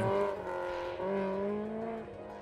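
A supercharged Mazda Miata with a big rear wing works an autocross course, its engine note holding a steady tone, dipping briefly, then rising again as it pulls through a turn, heard at moderate distance.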